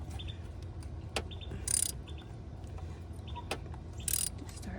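Ratchet working a spark plug loose on a 2006 BMW X5 3.0i, giving a few sharp clicks and two brief brighter bursts of metallic ratcheting over a steady low background hum.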